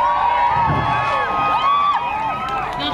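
Crowd at a teen dance party on Good Friday cheering and whooping for a band, a dense, steady wash of shouts and voices that holds at full strength throughout.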